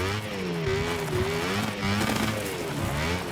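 Motorcycle engine in the bike racing games Ride 6 and MotoGP, on sand: a close, rising and falling engine whine climbs and eases with throttle over a few seconds, alone without talk.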